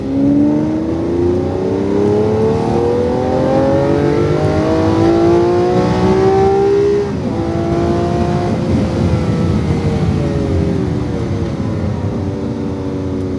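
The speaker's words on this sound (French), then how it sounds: "Et on accélère pour la ligne droite." A car on a race track straight, its engine loud and close, pitch climbing steadily through the gears with a brief dip at a shift before rising again.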